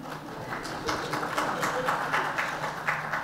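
An audience applauding at a talk on slowing climate change, a steady patter of many hands clapping at moderate distance, even and continuous throughout.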